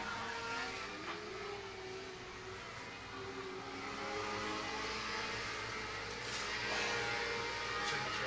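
Restricted micro race cars at a speedway on a hot lap, a continuous roaring drone of several engines at mid distance, swelling and fading as the field sweeps around the track.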